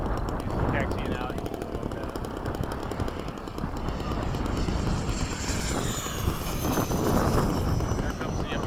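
A P-51 Mustang propeller fighter taxiing out at an airfield, its engine a continuous rough rumble heard from a moderate distance, with crowd noise and voices underneath throughout.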